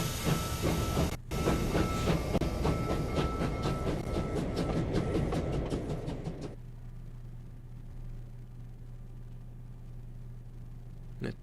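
A video-game train runs along its rails with a loud rumbling, hissing rush and a steady clickety-clack, then cuts abruptly to a faint low hum after about six seconds.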